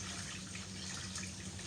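Rinse water from washed rice is poured away in a kitchen, a faint, steady splashing rush like a running tap that continues throughout without pause.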